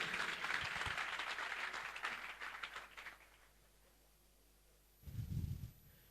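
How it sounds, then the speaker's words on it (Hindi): Applause from an audience at a business gathering, a dense burst of clapping that fades out after a few seconds, with a brief low thump near the end. "जोरदार ताली"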